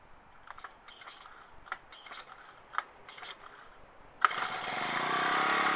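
A Honda GX31 small four-stroke engine, refurbished with fresh oil and adjusted valves, gives several sharp mechanical clicks and pull-start rattles before catching and settling into a loud, steady high-pitched idle close by.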